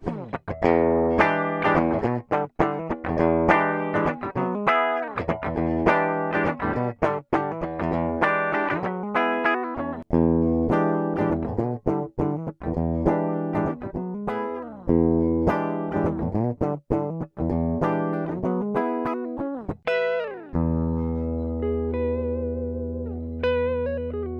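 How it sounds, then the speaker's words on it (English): Clean electric guitar through a high-impedance input on a Lewitt Connect 6 interface, playing a lively melodic passage with chords and single notes, ending on a sustained ringing chord. "Let's hear the clean electric guitar through a proper high impedance input versus the Connect 6's regular input."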